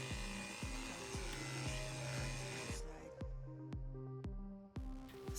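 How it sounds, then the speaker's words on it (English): A Yofidra pressure washer with a 25-degree nozzle sprays car wheels, a faint, steady hissing jet over a pulsing motor that stops partway through, leaving sharp clicks and the motor's beat. "Our Yofidra pressure washer in use this time"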